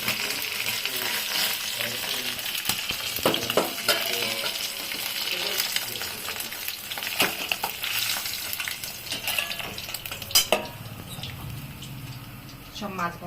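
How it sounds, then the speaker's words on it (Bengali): Pieces of katla fish fry in hot oil with a steady, dense sizzle that runs the whole time and swells to a few louder spits and pops near the end. "আবার মাছটা ভাজা হোক"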